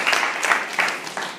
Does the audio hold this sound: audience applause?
yes